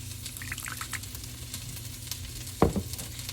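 Paneer being sautéed in a hot pan gives off a soft, steady sizzle, with a brief sharp clatter of the spoon or pan partway through.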